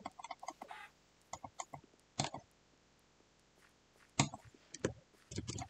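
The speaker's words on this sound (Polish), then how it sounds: "No co jest z tymi kurczakami normalnie?" Minecraft chickens cluck and click in short scattered bursts, close and fairly quiet, with gaps of near silence between them.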